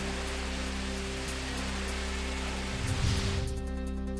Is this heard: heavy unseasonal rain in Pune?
yes